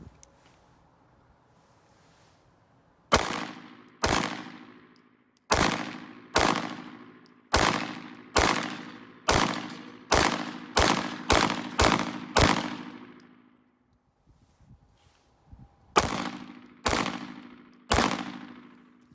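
A CZ Shadow 2 Compact pistol fires repeatedly, with loud, close, sharp reports in quick strings, about a dozen shots with short gaps, a pause, then a few more shots near the end.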